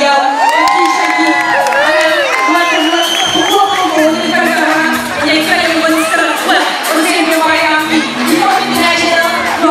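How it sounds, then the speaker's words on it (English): A big crowd at the Hip Hop International 2019 finals in Cape Town cheers loudly, with whoops, shouts and high-pitched yells swelling and overlapping continuously throughout. "Now, let's have a round of applause."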